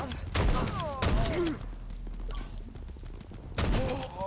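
Gunfire in the shooter Gods of Boom comes as several short bursts separated by gaps, close and fairly loud, with a player's voice talking and reacting between the shots.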